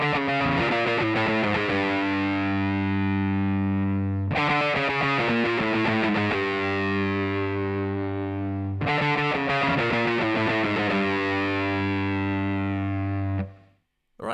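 Distorted electric guitar plays the chorus riff of a song through effects. Three loud strummed phrases repeat, each struck hard and left to ring as a descending line sustains. The last phrase cuts off abruptly near the end.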